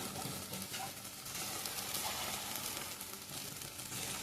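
Masala for a Mangalore-style egg curry sizzles and fries in a pan, a steady, close crackling hiss that continues without pause, with no talking over it.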